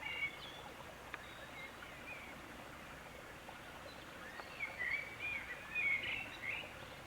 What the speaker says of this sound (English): You probably even hear the birds chirping in the background.